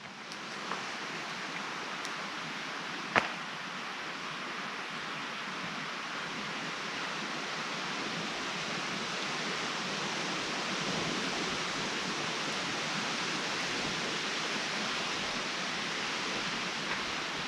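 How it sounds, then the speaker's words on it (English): Wind picks up at an overlanding campsite, a steady broad rushing roar that holds for the whole stretch, with a single sharp click early on and no talk. "The wind's starting to pick up now, so it might get cold tonight"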